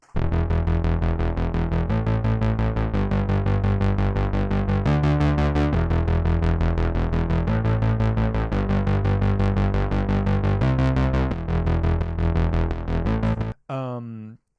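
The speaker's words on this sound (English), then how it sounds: "she also came up with this bass line" A dense, buzzing synthesizer bass line pulses steadily in repeating note patterns, loud and continuous, with a short swirling tail at the end.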